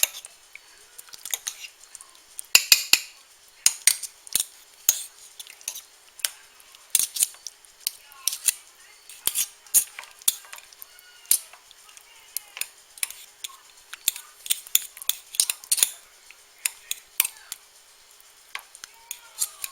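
BBQ beef being shredded with a pair of forks: a quiet, steady run of light metallic scrapes and clicks, irregular and close, with no talking.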